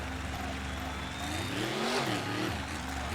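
Engines of a Megalodon fire truck and an Avenger monster truck rumble at the start line of a racing video game, the revs rising and swelling in pitch midway before easing back, steady and close.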